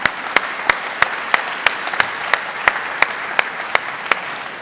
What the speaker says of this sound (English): So please give our online audience a round of applause